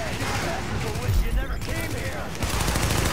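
Automatic gunfire in a Tom Clancy's The Division firefight during a precinct siege: a dense, sustained rattle of shots that runs throughout, with a voice talking over it.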